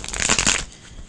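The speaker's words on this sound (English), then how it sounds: "One more shuffle." A quick riffle of playing cards being shuffled up close, a brief burst of flapping card edges that fades into quiet.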